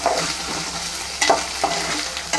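Fish eggs fry in a pan with a loud, continuous sizzle and occasional sharper crackles and stirring scrapes, with no voices present.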